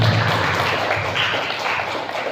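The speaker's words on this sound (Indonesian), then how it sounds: "tepuk tangan untuk kita semua." An audience at a school positive-culture dissemination session in Indonesia applauds together, a dense, steady wash of clapping that fills the whole moment without talk.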